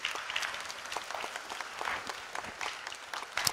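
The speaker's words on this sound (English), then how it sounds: "A big round of applause to our panelists." An audience at a church marriage seminar applauding its panelists, a moderate, fairly distant patter of many hands clapping with uneven swells, steady for several seconds.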